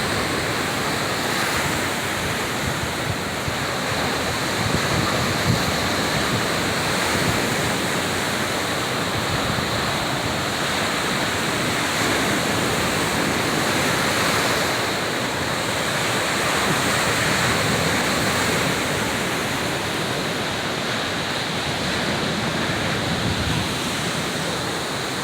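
Waves breaking on a beach beside rocks, a steady loud roar of surf and rushing water that continues without a break, with some wind mixed in.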